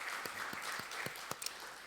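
Scattered, sparse hand claps from a church congregation applauding its choir during a Sunday morning service, faint and thin, with a few sharp individual claps standing out over a soft room hiss.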